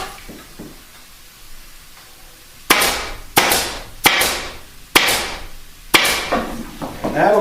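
Upholstery fabric being tacked onto a wing chair with a hammer: five loud, close, sharp strikes at an uneven pace, each ringing out briefly, following a quieter stretch of handling at the start.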